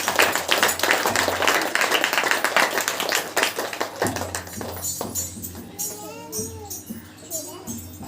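A church congregation at a Saturday worship meeting claps hands together in a dense, rhythmic burst that fills the first half, then thins out as a voice and music carry on over scattered claps.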